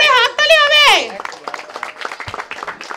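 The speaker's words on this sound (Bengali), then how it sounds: "আরে জোরে হাততালি হবে।" A voice rings out briefly, then the crowd at a Dum Dum Ganesh Puja 2025 pandal award ceremony breaks into dense, steady applause that continues to the end at moderate loudness.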